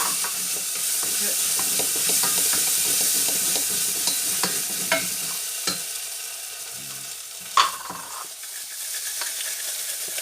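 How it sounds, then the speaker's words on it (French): Starch stirred into water for a gravy sauce in a pan over heat, giving a continuous soft hiss with rhythmic scraping stir strokes and an occasional louder clack of the utensil, heard up close. "On va mettre la fécule dedans. On va bien mélanger."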